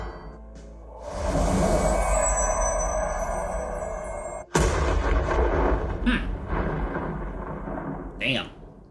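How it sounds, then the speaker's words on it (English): A muffled explosion blows open front gates in an audio drama: a long rumbling roar, a sudden sharp blast midway, then further booming crashes with a rolling, echoing tail. "the muffled explosion of the front gates erupting in flames echoed in their ears"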